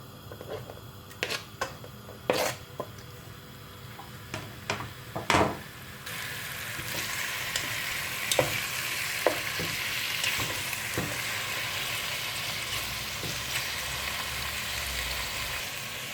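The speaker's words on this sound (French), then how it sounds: "Je mets ma viande et je vais laisser dorer ma viande quelques instants." Veal pieces browning in olive oil in a pan for blanquette de veau, a steady sizzle with sharp clicks and clatters early on, then a broader, constant frying hiss that fills the rest of the stretch without talk.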